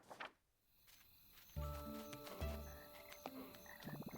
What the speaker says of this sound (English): Check out the singing frogs. Sweet harmonies.